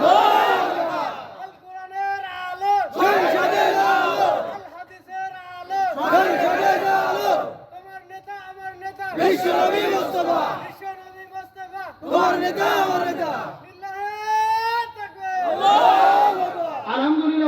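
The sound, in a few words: crowd chanting takbir (Allahu Akbar) in response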